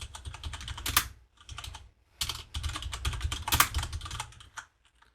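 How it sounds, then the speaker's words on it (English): Computer keyboard typing in quick bursts of clattering keystrokes, a git commit command entered in a terminal, with short pauses between runs of keys; close and clear, no voices. "we're just going to type git commit -a--m, and our message will be"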